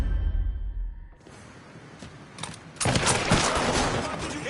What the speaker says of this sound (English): Careful! He's shooting!